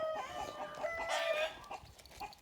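A young rooster (cockerel) clucks and calls in short repeated bursts, fairly close, near an electric fence, with other fowl faintly audible in the background.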